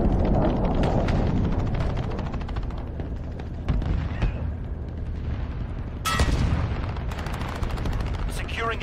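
Cruise missile strikes in a Call of Duty: Modern Warfare Ground War match at Karst River Quarry, a loud sustained barrage of booms and gunfire with a sharp new blast near the end, under game voice callouts.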